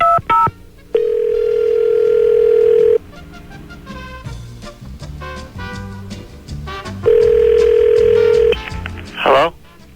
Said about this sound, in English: let's dial him up and find out